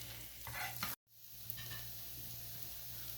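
A methi bun paratha cooks in a pan over medium heat, giving a steady soft frying hiss with light stirring scrapes and a brief drop to near silence partway through.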